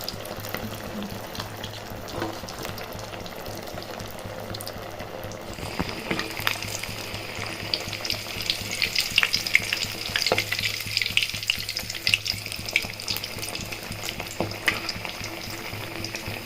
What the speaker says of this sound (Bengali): তেল গরম হয়ে গেছে, এরপর একে একে এগুলো ছেড়ে দিতে হবে